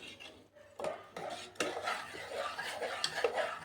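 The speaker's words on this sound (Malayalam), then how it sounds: "അപ്പം നമ്മൾ നന്നായിട്ട് ഇളക്കിക്കൊണ്ടേയിരിക്കണം." A spoon stirs custard in a pan, giving a run of soft scrapes and sharp clinks against the metal at an uneven pace. The sound is close but quiet, and nobody talks.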